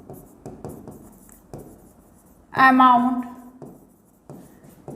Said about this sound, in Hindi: यहाँ पर हम लिखेंगे पर्टिकुलर्स